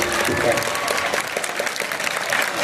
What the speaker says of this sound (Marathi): म्हणून एकदा टाळ्या सर्व शिक्षकांसाठी, तुमच्या चेके सरांसाठी, दांडे मॅडमसाठी,